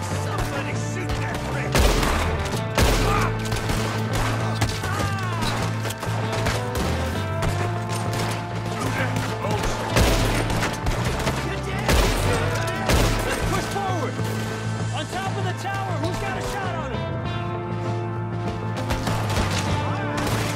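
Gunfire in the Red Dead Redemption 2 western shootout, repeated loud rifle and pistol shots cracking over a constant musical score, with characters shouting during the fight.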